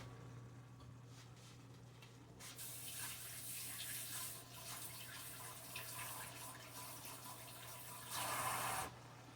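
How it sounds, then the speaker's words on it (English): Running tap water splashes steadily into a kitchen sink as hands are rinsed during Christmas lunch cooking, with a louder gush near the end. "rinse my hands off."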